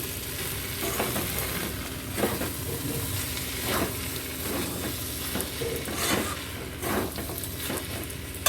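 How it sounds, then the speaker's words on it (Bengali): Slit green chillies stirred and sizzling in a frying pan for prawn pulao, a steady hiss of frying with soft scraping strokes of the spoon every second or so, close and fairly quiet, no talking. "ঝালের জন্য চারটে কাঁচা লঙ্কা চিড়ে দিয়ে দিচ্ছি কাঁচা লঙ্কাটাতে একটু মিক্সড করে নিচ্ছি"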